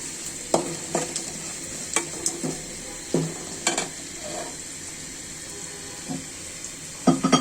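Beef and raw jackfruit with chopped onion sautéed and stirred in a pan, a steady sizzle broken by repeated scraping strokes of a spoon, close and moderately loud, with no one talking.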